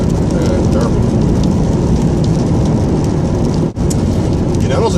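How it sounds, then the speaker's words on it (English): Heavy rain pours down steadily in a dense, continuous roar on a miserable day, with a brief dip near the end before the downpour resumes. "Awful day, pouring with rain."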